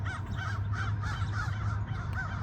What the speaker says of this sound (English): This is the time of day near sunset when all of the crows, I love crows, all of the crows are, I guess they're going to bed, they're nesting